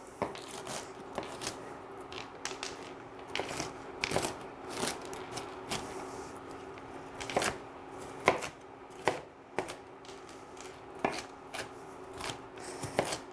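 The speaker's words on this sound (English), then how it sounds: "So while I'm chopping this" A knife chops on a cutting board in quick, uneven bursts of sharp taps, close and fairly quiet, with no talking.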